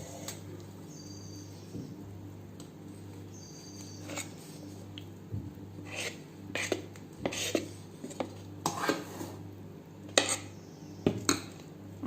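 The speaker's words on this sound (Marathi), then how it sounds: "आता हे छानपैकी मिक्स करून घ्या" Appe batter being mixed in a bowl, with quiet scraping and clinking of a spoon against the bowl that grows busier and louder toward the end, over a low steady hum, no talk.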